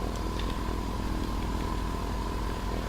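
A light aircraft taxiing at Inverness in a flight simulator game, its engine droning steadily and evenly throughout with a faint clattering texture, no voices.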